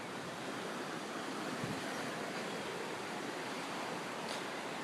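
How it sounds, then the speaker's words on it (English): Strong river current rushing steadily, a dense unbroken roar of flowing water close by, with no voices. "The river's really going pretty strong over here."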